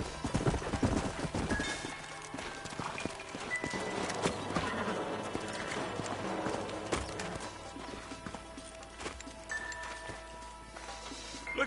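Horse hooves clip-clop steadily on the ground in the Red Dead Redemption video game, with an occasional whinny, moderately close and continuous under ambient background sound.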